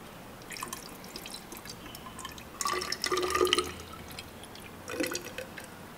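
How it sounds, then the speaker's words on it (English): Water poured into a glass conical flask during a primary-school science demonstration. It makes intermittent trickling and splashing bursts, with a louder pour in the middle and a brief one near the end, and no voices. "I think this conical flask, I'm able to pour the water in."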